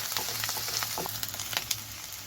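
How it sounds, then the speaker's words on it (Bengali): Chopped onions for chicken patia sizzle steadily in hot oil while a spoon scrapes and stirs the pan in irregular clicks, frying until they turn reddish, close and moderately loud with no voices. "এবার ভালো করে এটাকে কষিয়ে নেব যতক্ষণ না পেঁয়াজটা একটু লালচে হচ্ছে"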